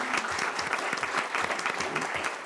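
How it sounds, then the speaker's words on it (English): A crowd at a school district governing board meeting applauds steadily throughout, a dense wash of clapping with no pauses. "I think we need to give you an applause too"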